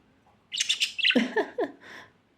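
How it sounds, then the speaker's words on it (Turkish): A pet budgerigar chirps and squawks in a quick burst of several close, bright tweets, heard alone without talk. "Yaramaz kuşum benim."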